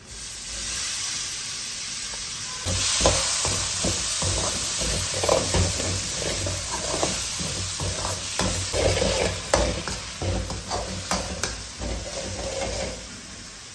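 Steady sizzling and frying of tomatoes in a pan with repeated stirring scrapes, a soft hiss at first that grows louder and busier after a few seconds.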